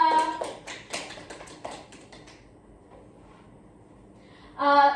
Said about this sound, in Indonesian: Beri aplaus untuk Erika dan Naswa.